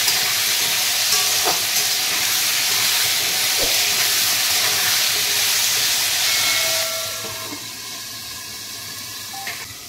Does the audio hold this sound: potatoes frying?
yes